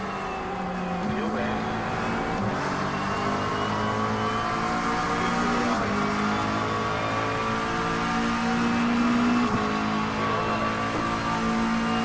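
GT3 race car engine in iRacing at Monza, steady loud revving with rising gear pitches and brief dips at shifts, continuous throughout with speech over it.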